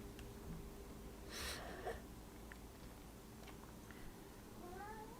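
A house cat gives two or three short, thin meows over steady room hum, the loudest near the start and another rising cry near the end, with no talking.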